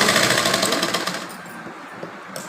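A sewing machine stitches the front piece of a blouse with a fast, loud, even mechanical rattle that slows and fades to a quieter hum by the end.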